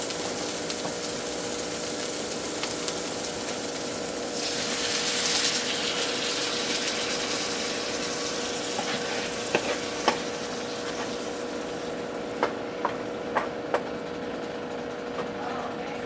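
Chicken tinga sauce poured into a hot pan, frying and sizzling with a steady broadband crackle and a brief louder surge of hiss, followed by scattered sharp clicks of stirring utensils; no one talks.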